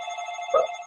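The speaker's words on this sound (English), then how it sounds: "sorry, phone's ringing." Telephone ringing alone in a quiet room: a steady electronic tone that holds level, with one sharper, louder ring burst near the end.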